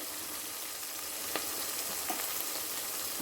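Amaranth greens tossed into a pan of onions and garlic frying in oil, giving a steady close sizzle with a few sharp crackles and stirring clicks, no voices.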